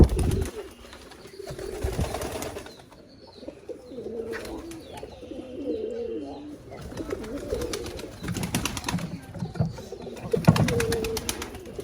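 Pigeons coo steadily in a farm coop with a newly replaced tin roof, rain falling outside, their low rolling calls repeating near and clear throughout, with faint scattered chirps between them.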